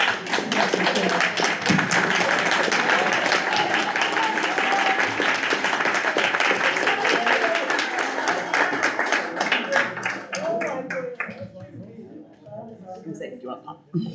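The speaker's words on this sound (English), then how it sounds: "An extra round of applause." Audience applause at a community reading event, steady dense clapping from a crowd that gradually thins and fades toward the end, with a voice talking over it.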